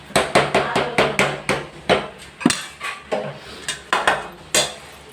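Cooking pot lid being set down and closed on a gas stove, a string of sharp metallic clanks and knocks at an uneven rhythm, close and fairly loud, with no talking.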